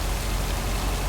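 Steady rain in the video game Lake, a continuous hiss of falling drops with no voices over it for the whole stretch.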